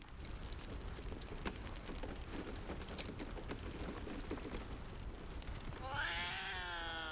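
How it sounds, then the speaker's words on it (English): A cat in the video game Baldur's Gate 3 gives a single drawn-out, clear meow near the end, after several seconds of crackling, rain-like game ambience. "it's a kitty cat"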